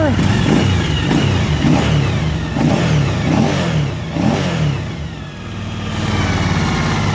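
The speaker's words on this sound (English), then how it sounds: "it's going back down to normal idle as it should" A Suzuki V-Strom DL1000 motorcycle with an erratic idle problem revs in several close, loud surges, then settles back to a steady idle near the end.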